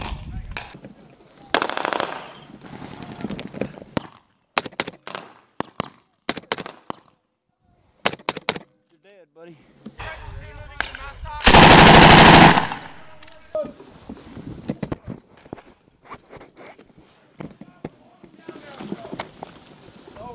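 M240 machine gun fire during a combat firefight, with sharp bursts of shots and loud cracks scattered through the clip, one long sustained blast near the middle, and shouting voices between the volleys.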